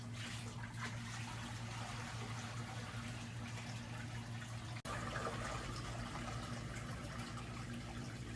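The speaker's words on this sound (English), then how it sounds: "I'll just go ahead and just put the water in as slowly as I can" Water is poured slowly into a home fish tank, a steady low gurgling wash that continues unbroken for several seconds, with a brief dip partway through, no voices over it.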